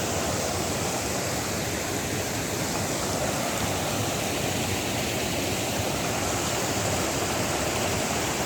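Spring water in the lesser Himalayas flows out of the ground as a steady, close, full rushing wash that holds unbroken and loud throughout, with no voices.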